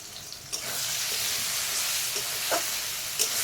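Tomato, turmeric and chili powder frying in a pan for chicken curry, a continuous close sizzle with a few light clinks and scrapes of stirring, no talking.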